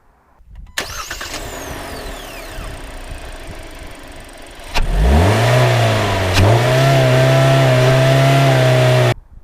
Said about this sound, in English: I think we should hear how it sounds